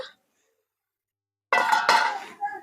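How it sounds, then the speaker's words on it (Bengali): After a silence, a metal wok clanks down onto a stove with a bright ringing scrape, close and fairly loud. "এই যে কড়াইটা চাপিয়ে দিলাম"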